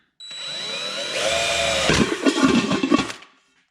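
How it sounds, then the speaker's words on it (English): A power drill boring a hole through the center of a bucket for a homemade metal Christmas tree stand, a loud steady whine that ends in a few rough grinding bursts as the bit breaks through, then stops. "So I'm going to drill a hole right in the center of the bucket"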